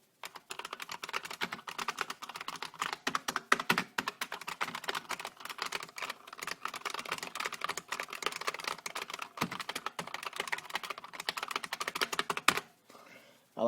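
A 1988 IBM Model M clicky keyboard being typed on: a dense, continuous rattle of sharp key clicks, close up, running steadily before stopping abruptly near the end.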